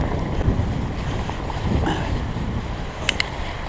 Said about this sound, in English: You can hear Current River.